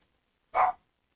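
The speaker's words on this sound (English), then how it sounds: "And I apologize for the dog barking." A single short dog bark, loud and close, standing alone against an otherwise silent background.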